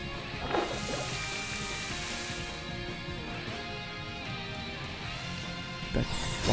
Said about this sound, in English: Rain Dance again.